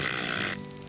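A voice imitates the dry crackling wing crepitation of a band-winged grasshopper, a loud rasping burst for about half a second that cuts off abruptly into quiet.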